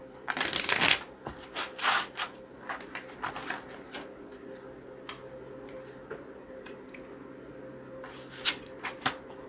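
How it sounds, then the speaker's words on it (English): Cards are drawn from an Egyptian tarot deck, giving a burst of close papery shuffling and riffling at the start, followed by scattered soft flicks and taps, with a few more riffles near the end. "start here with the Egyptian deck and draw 4 cards to begin"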